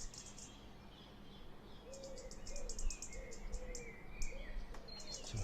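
A bird calls repeatedly from a bush, short faint chirps recurring at a steady pace over distant ambient hum and insect-like buzzing, with no voices.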